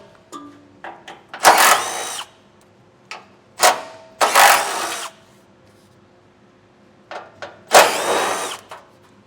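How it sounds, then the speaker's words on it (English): A power tool removes 10mm heat shield bolts under a 2019 Ram 2500 during a fifth wheel hitch install, sounding in three loud, close bursts of high whirring, each with a few short clicks and taps between them. "There's going to be a series of 10mm bolts."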